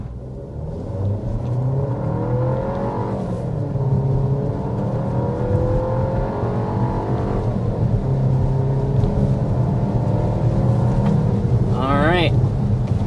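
A 2025 Volkswagen Tiguan with a 1.6-liter turbocharged four-cylinder hybrid powertrain accelerates to 60 mph, its engine note rising through gears as a loud interior rumble, with brief speech over it.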